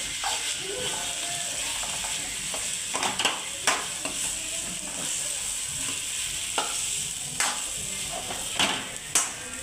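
A pan of potato curry is stirred with repeated scraping, clicking strokes over a constant background sizzle, with the strokes coming in irregular bursts.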